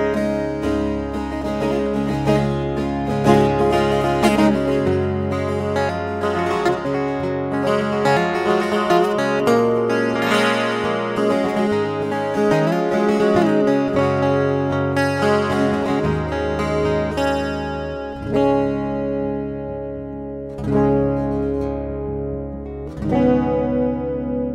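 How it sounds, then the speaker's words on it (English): A Tanglewood twelve-string acoustic guitar played through a DiMarzio Black Angel soundhole pickup, strummed chords ringing with a bright, shimmering doubled tone, steady and close, no voices. "This is my Dimarzio Black Angel pickup installed inside my Tanglewood 12 string"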